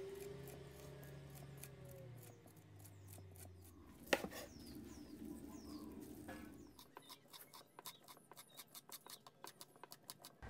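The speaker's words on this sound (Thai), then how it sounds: "เรามาขูดหน่อไม้ต้มของเรานะครับให้เป็นเส้นๆนะครับใช้ส้อมขูดเลยนะครับ" Boiled bamboo shoots being scraped into strands with a fork, quiet rapid scratching strokes repeating in a steady rhythm, faint and close, following a brief low hum at the start.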